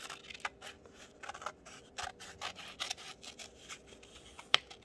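Scissors snip through paper while trimming a box craft to size, giving a quiet string of short, crisp cuts and rustles, with one sharper snip near the end.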